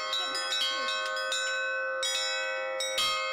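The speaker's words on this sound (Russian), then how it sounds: "желающих собственноручно позвонить в колокола" Church bells at a Christmas charity event ring repeatedly with overlapping clangs and long sustained ringing tones, a dense rhythmic peal close by.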